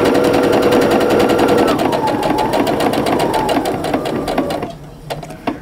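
A sewing machine runs steadily, stitching quilt half square triangles in a continuous fast rhythmic whir, loud and close, before stopping near the end and leaving a few faint clicks.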